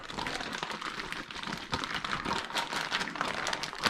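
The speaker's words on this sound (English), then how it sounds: "Zip my bag up, shake my bag up." Quick crinkly rustling of a zip-top plastic bag of seasoning being shaken, a busy rattling swish that stays close and fairly quiet throughout.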